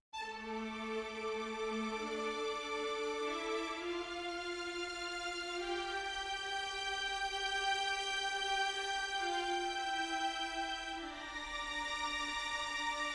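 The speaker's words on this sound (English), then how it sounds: "If you notice carefully in the violins here, there are two voices going on at once." Violins in a score from Mass Effect 2 play two voices at once: a high, lush sustained pad over lower single notes that support the melody. The sustained orchestral tones are heard alone, steady and full throughout.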